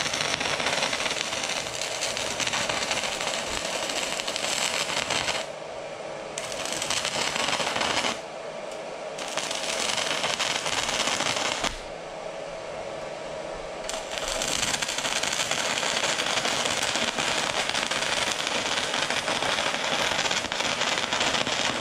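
A small Fitinhot handheld welder working on metal, a loud, continuous crackling hiss that runs for long stretches and breaks off briefly a few times before starting again, with no talking.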